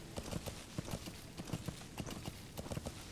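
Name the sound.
horse hooves in video game Metal Gear Solid V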